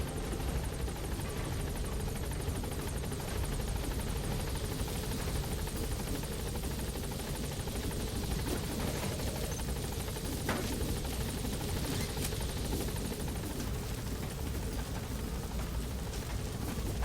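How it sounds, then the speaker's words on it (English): Helicopter in the video game Metal Gear Solid V, a steady, loud rotor and engine roar that holds throughout without letup, no voices. "getting Miller in the chopper."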